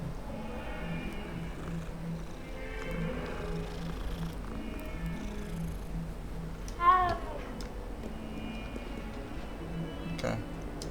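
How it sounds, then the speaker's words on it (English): A cat in Hogwarts Legacy gives a short meow over steady game ambience and background music, with a voice talking faintly underneath. "Kitty."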